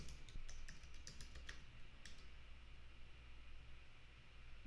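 A passphrase typed on a computer keyboard to log into a server: a quick run of close keystroke clicks over the first two seconds, then only a steady low hum and faint hiss.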